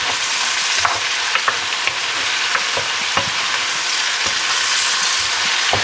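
Oxtails sizzle steadily in a hot pot as they brown and caramelize, with sharp scrapes and clacks of a spoon stirring them at irregular intervals, close and fairly loud throughout.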